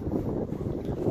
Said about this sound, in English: It's windy. You probably hear the wind.